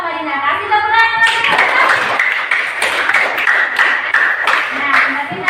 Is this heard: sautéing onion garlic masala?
no